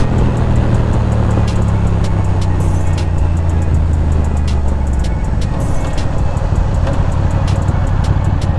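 A motorcycle rides the Vista Loop in San Diego, its engine roaring steadily and loudly under heavy wind rush, with a deeper drone early on easing to a level hum.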